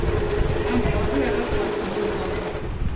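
An Usha Piko sewing machine stitches a buttonhole in a steady, rapid mechanical whir and clatter that runs close and constant, with a voice faintly present underneath.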